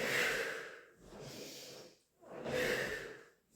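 Slow, deep breathing during a beginner Pilates rolling exercise, with three loud, close, airy breaths in a steady inhale and exhale rhythm and no talking.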